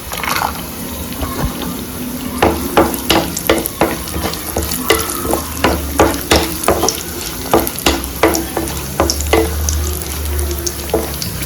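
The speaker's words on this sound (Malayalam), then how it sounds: "കാഷ്യൂ ഫ്രൈ ആയി, ഇനിയിപ്പോൾ കിസ്മിസ് ദ്രാക്ഷ ഇടാം" Cashew nuts frying in hot oil in a pan for Kerala-style chicken biryani, with raisins about to go in: a steady close sizzle broken by a run of sharp clicking spoon-and-pan taps, with no talk.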